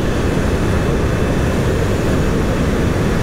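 Electric bike motor running at very high RPM during acceleration, a loud, steady, dense whirring roar that stays constant throughout with no talk.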